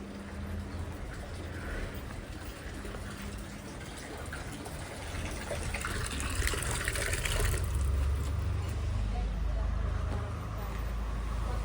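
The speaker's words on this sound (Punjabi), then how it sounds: "ਟੂਟੀ ਬੰਦ ਕਰਕੇ ਬਾਲਟੀ ਭਰ ਗਈ" Tap water gushes steadily into a bucket, the rushing growing louder and fuller in the second half, with faint voices in the background.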